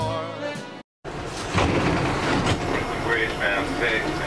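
A New York City subway train rumbles along with a steady roar and rhythmic rattling, briefly cut off near the start. A voice talks over the noise.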